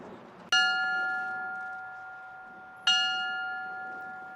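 Two strikes of a bell ring out at a tornado remembrance in Moore, Oklahoma. Each clear, loud toll hangs and slowly fades before the second strike about two seconds later.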